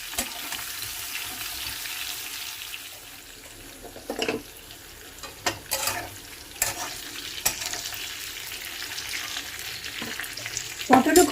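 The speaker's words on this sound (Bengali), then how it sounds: "পটল ভাজতে আমার 3-4 মিনিটের মতো সময় লাগবে, কারণ খুব ভালো করে ভেজে নিতে হবে।" Pointed gourd (potol) pieces frying in hot oil give a steady, close sizzle throughout, broken by a few sharp clatters and scrapes as they are stirred in the pan.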